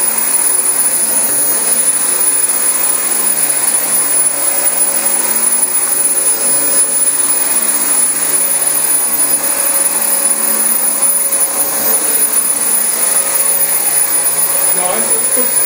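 A Dyson DC25 upright vacuum cleaner runs on thick new carpet with a loud, continuous high-pitched motor whine and a steady airy roar, close throughout with no break.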